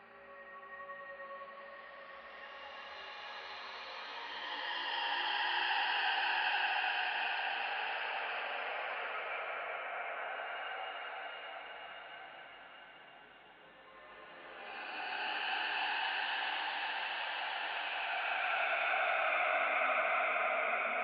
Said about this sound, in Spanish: A través de síntesis y modulando varios parámetros, estoy poniendo reverberación y esto me está creando una atmósfera misteriosa